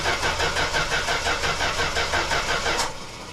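A 1970 Plymouth Valiant engine cranking, with rapid rhythmic starter chugging that runs steadily, then drops off abruptly near the end.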